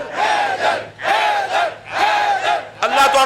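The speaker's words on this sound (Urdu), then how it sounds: "انہوں قسم لگے اونچی نعرہ لاوے حیدر حیدر حیدر حیدر حیدر حیدر" A large crowd roars the chant "Haidar" in loud, repeated bursts, about four voiced surges in a steady rhythm, loud and close, with a rougher cheer rising at the end.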